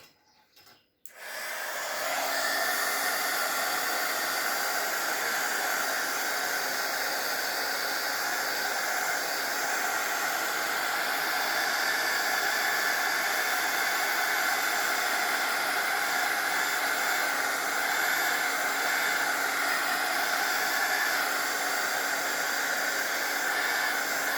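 A blower drying ink on stamped vellum gives a steady, loud hiss of airflow that starts suddenly after a brief quiet and runs on without a break, heard close with no talk.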